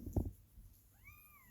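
A cat meows once, faint and at a distance, in a quiet room. A short low thump comes before it.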